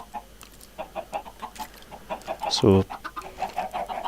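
Minecraft chickens clucking on an automated chicken farm at night, a steady run of short clucks with one louder squawk in the middle, under a man's brief speech.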